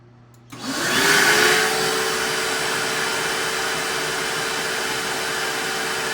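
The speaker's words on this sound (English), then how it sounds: "just a shop vac right now. And we're going to turn that on." A shop vac switches on with a rising whoosh, then settles into a loud, steady, whining roar that runs on unbroken and close by.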